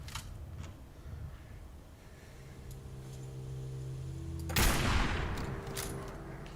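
Incendiary-round gunfire from a Fallout 4 firefight, with a sudden loud burst near the end over steady droning game ambience.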